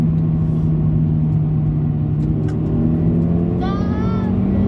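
A manual-gearbox car drives along a road and slows to 70 km/h. A steady low engine drone runs close and continuous, with a short whistling tone near the end.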